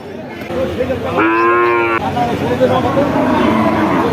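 At a cattle market selling Friesian and local-breed cows with calves, a single loud, close cow moo lasting under a second rises above crowd chatter and background noise.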